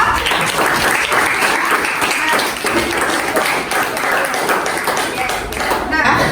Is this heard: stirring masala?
no